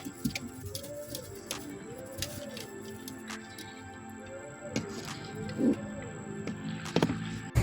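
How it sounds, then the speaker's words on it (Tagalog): Soft, repeated cooing of pigeons nearby, with rustling and scattered clicks and taps in the background. "yan yung ibon natin"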